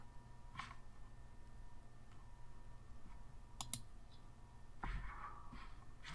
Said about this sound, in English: double click on PX last